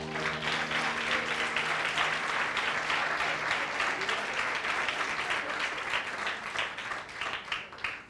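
A church congregation applauds in a steady wash of clapping that carries on for several seconds and tapers slightly toward the end, with faint tonal sound underneath at first.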